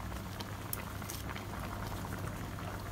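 A pot of Thai sour curry soup with kaffir lime leaves boils steadily with a constant bubbling roar, close up and continuous, with occasional brighter pops breaking through.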